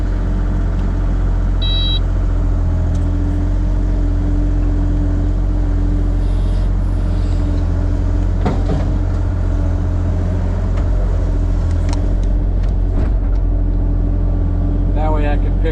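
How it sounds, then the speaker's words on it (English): A heavy dump truck engine rumbles and idles steadily and loudly throughout, with occasional clanks and a few faint beeps mixed in. "I just grabbed my dump truck."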